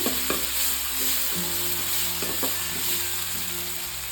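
Onions frying in oil with a spoonful of ginger-garlic paste, a steady close sizzle with a few clinks and scrapes of stirring throughout, no voices.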